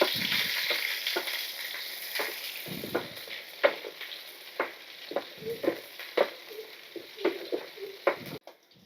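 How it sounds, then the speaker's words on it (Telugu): Onions and green chillies frying in a pan over a wood-fire stove, a steady close sizzle broken by repeated scraping clicks from a stirring spoon. "ఒకసారి వేపుకోవాలి అలాగా."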